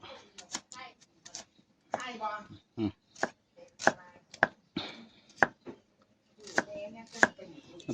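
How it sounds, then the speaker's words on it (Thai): Knife chopping red shallots on a board during outdoor Thai country cooking, sharp irregular chops in short bursts, close, with someone talking between and over them. "หั่นหอมแดงครับพี่น้อง"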